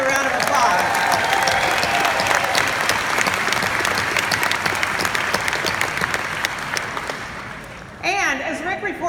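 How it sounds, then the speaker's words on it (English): Loud, sustained applause from a large conference crowd fills the room, slowly thinning out before a voice starts talking near the end. "So give yourselves another round of applause"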